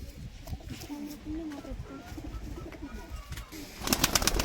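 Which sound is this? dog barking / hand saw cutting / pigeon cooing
pigeon cooing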